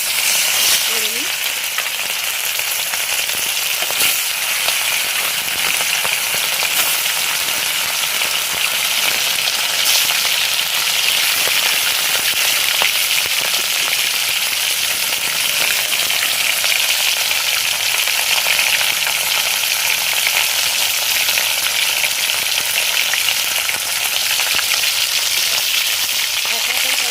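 Fish frying in hot oil in a home kitchen gives a loud, continuous hiss and sizzle that holds steady throughout with no talk.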